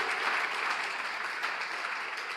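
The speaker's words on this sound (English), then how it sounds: "Put your hands together for the media for us." Sustained audience applause at a college anniversary celebration, an even, fairly faint wash of many hands clapping, heard a little way off with no talk over it.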